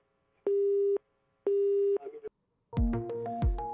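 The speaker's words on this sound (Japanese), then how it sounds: "男性が家族に代わろうとすると電話が切れました。" Two steady telephone busy-tone beeps sound after a suspicious caller posing as police hangs up on a man, followed by brief noise and then a louder burst of layered tones at the end.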